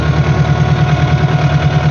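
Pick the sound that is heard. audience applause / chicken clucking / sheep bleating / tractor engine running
tractor engine running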